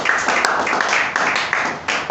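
A church congregation breaks into dense applause during a sermon on fulfilling one's ministry, steady loud clapping with a few sharper peaks across the whole stretch.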